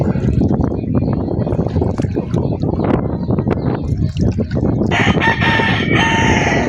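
Chickens cluck and squawk loudly and continuously up close, with a rooster-like crow mixed into the busy flock noise.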